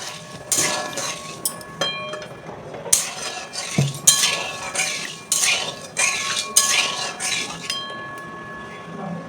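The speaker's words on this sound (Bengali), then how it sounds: "এবার আমি চিনি ছেঁড়াটাকে তৈরি করে নেব।" A metal spoon clinks and scrapes against a pot of sugar syrup with cardamom, in a steady irregular rhythm of sharp taps at close range, with a person speaking quietly at times.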